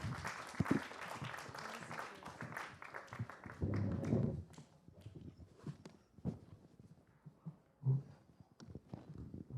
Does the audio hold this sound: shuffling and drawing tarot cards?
no